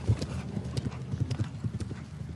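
Hooves of a show jumper clip-clopping on the arena footing during a grand prix jump-off at Chantilly, an uneven run of close, moderately loud thuds, with faint crowd and commentary murmur underneath.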